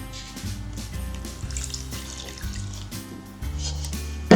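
Water pours steadily into a bowl of Betty Crocker chocolate cake mix already holding oil, a close, continuous trickle with faint background tones and no talking.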